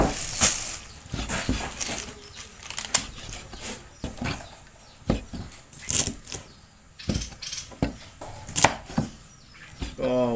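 A knife chops banana pepper on a cutting board in a military camp kitchen, a run of sharp, irregular, close-up strikes with short pauses between bursts.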